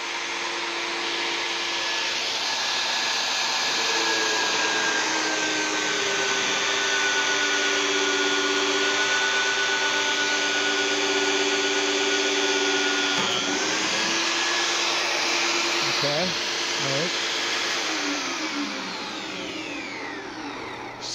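Cayken SCY-42HD magnetic drill boring through steel with coolant flowing, a loud continuous motor whine and cutting hum that holds steady for about twenty seconds, then shifts as the cutter breaks through.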